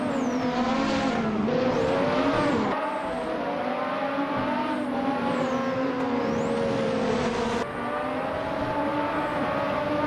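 Race cars roaring during a race, including a Eurobron ER 188, with a loud sustained engine drone that rises and falls in pitch as cars pass and shift, alone without talk.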